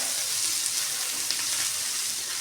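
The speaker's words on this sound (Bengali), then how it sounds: "তো আমি নাড়াচাড়া করে আবারও ঢেকে দিচ্ছি" Bitter gourd and new potatoes frying in a pan as they are stirred, a steady close sizzle with soft scraping that stays even throughout.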